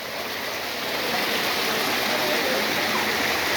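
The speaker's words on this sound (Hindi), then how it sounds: "ये गर्म जल की धारा बह रही है।" Hot spring water at Badrinath streams steadily in a continuous broadband rush, loud and close, without pause through the short stretch.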